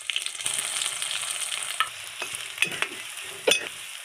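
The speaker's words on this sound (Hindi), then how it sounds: "तो चलिए हम प्याज ऐड कर" Onions frying in a pan for a gram-flour (besan) curry, a steady close sizzle broken by several sharp scrapes and clacks of stirring, with no talking.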